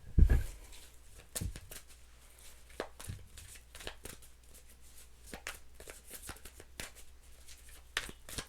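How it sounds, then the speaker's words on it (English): Playing cards are shuffled close by in a quiet room, a soft run of quick riffling and flicking bursts with a sharper thump at the start. "Three more shuffles."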